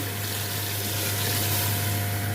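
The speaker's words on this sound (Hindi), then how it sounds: "भुनने के बाद इसमें अब मैं डालूंगी 2 गिलास पानी," Water gushes steadily into a pressure cooker of goat trotters, a continuous rushing pour with a low hum underneath and no talking.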